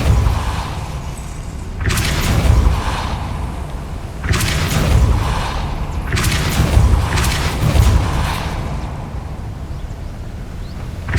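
Depulso spell effects in the video game Hogwarts Legacy, a series of loud booming bursts with whooshing, shattering tails recurring about every two seconds over a continuous rumbling game soundscape.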